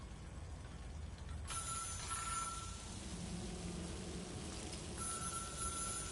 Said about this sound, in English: Oh, there's a phone ringing somewhere.